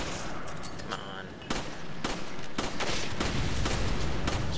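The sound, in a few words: gunfire in the video game Resident Evil 5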